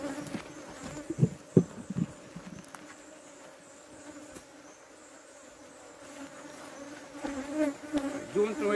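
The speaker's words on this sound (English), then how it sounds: "these bees have started up with this kind of behavior already" A steady drone of angry Africanized honey bees fills the air around a smoked hive. A few sharp knocks and handling thumps come early, then the buzzing swells again toward the end.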